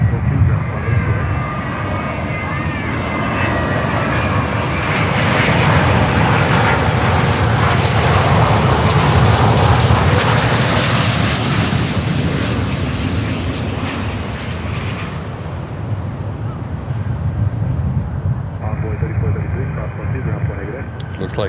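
An American Airlines airliner lands on runway 12 at Miami airport, its loud engine roar swelling to a peak midway and slowly easing off, with faint radio voices underneath.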